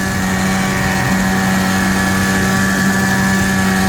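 A 35-40-year-old Evinrude 5HP two-stroke outboard pushes a Zodiac 2.7 Airdeck inflatable boat, its small engine droning at a steady, loud, even pitch throughout with no talk.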